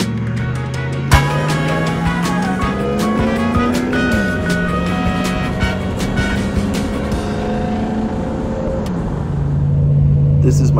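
Nitto Trail Grappler M/T 33-inch mud tires rolling at highway speed give a loud, steady drone with a tonal hum that slowly rises and falls, continuous for the whole stretch.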